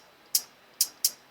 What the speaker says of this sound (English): This is when the hi-hat is closed.